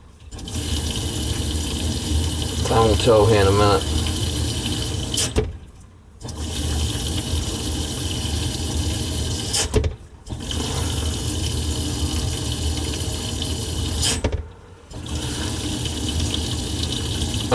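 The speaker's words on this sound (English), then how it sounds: "I'm just dumping hot water down the pipe before I hook it back up" Hot water poured steadily down a kitchen sink drain pipe during a slow-draining sink repair, a continuous rushing, splashing flow broken by a few brief pauses, with a short remark spoken over it.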